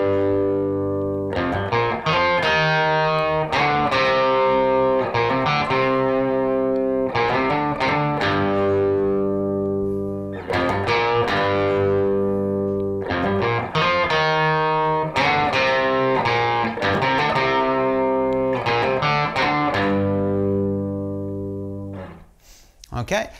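Distorted electric guitar plays the chorus riff of a song, chunky repeated phrases in a slow, steady groove with short gaps between, ringing out alone and ending in a brief scrape.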